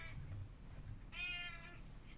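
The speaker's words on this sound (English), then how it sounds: "My cat's talking." A pet cat meows once in a clear, drawn-out call partway through, over a low indoor hum, with a fainter earlier mew at the start.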